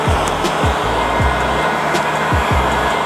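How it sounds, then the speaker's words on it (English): A heat gun blows a steady, loud whooshing stream of hot air while heating vinyl wrap film, with a few deeper periodic pulses underneath and no talk. "you want to make sure you keep moving the heat gun, or else you could burn and texturize the film"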